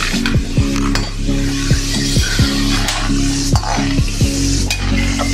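Peanuts frying in hot oil, a loud close sizzle broken by repeated rhythmic clanks and scrapes of a ladle stirring against the pan.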